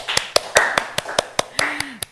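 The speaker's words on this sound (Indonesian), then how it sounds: "Tepuk tangan buat Zaki ya." Audience applause at an Indonesian talk show: about a dozen sharp, separate claps in a slow, even rhythm, close and distinct, with a voice briefly sounding between them.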